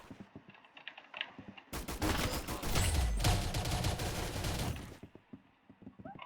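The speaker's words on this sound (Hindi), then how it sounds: "ये एक टाइप की पुरानी सी स्नाइपर राइफल होती है पुराने ज़माने की" Gunfire in the Roblox game Arsenal, a dense loud burst of rapid shots lasting a few seconds, framed before and after by light clicking like keyboard taps.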